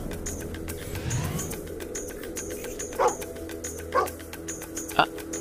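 In Fable II, a dog yips and barks in three short bursts at roughly one-second intervals, heard over a busy game soundtrack with regular ticking pulses.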